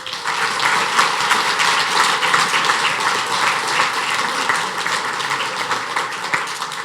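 A dinner audience gives a sustained, dense round of applause for the 2017 Silver Beaver award recipients, with the steady clapping filling the room and no one talking over it.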